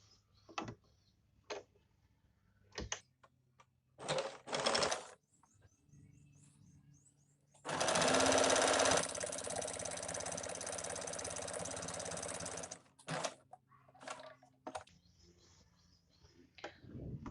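A sewing machine stitches the side seam of palazzo pants, running in one steady, loud burst of about five seconds, with scattered small clicks and fabric handling before and after.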